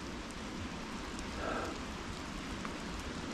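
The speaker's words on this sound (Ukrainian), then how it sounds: "дощик такий" Light, steady rain falls through a cool mountain forest at about 7 degrees during a mushroom hunt, a soft continuous patter with no one talking.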